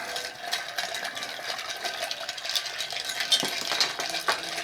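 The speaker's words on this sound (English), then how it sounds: "and give it a stir." Ice stirred with a bar spoon in a glass for a cranberry old fashioned, a quick run of light clinks and rattles, close and fairly soft, steady throughout with no talk.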